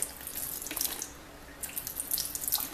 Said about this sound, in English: so I'll drain the water out of the white potatoes